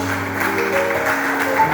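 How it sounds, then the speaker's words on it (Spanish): A church congregation claps briefly and firmly in praise, with the clapping mixed over sustained organ-like music tones at close range. "Denle fuerte palmas al Señor"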